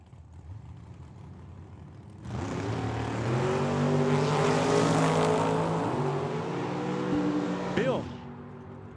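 A 1967 Camaro and a Mustang launch down a drag strip at Tucson Dragway, engines roaring loud with rising gear sweeps for several seconds, then cutting off sharply as they pass.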